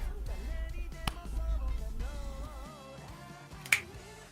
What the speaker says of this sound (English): You're snapping your fingers and you're smacking your fists together